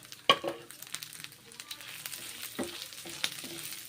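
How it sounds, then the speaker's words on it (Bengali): Masoor lentils frying in mustard oil make a soft, steady crackle with faint stir scrapes and one sharp clink early on, close up and quiet, with no voices. "তারপর মুসুরির ডালগুলো ভেজে নিচ্ছি"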